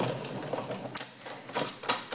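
A Big Shot die-cutting machine is cranked by hand with an embossing folder and cutting pad, giving a quiet, steady rolling grind with a few sharp clicks and creaks along the way.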